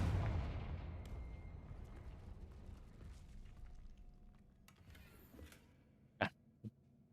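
Fire spell explosion in Hogwarts Legacy, a rumbling blast at the start that fades slowly over several seconds, followed later by two short sharp impacts, moderately loud.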